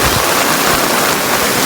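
Floodwater rushes through Varal village in Sihor taluka after a cloudburst, a loud, steady, broadband roar of churning water filling the whole moment without a break.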